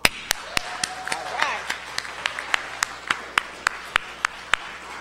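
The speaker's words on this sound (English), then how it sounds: "we're asking everyone to give the administration and the staff an applause" Sparse, scattered clapping at a STEAM awards luncheon, offered for the administration and staff: about fifteen sharp, separate claps at a steady, unhurried pace, with a brief tonal sweep and faint room murmur underneath.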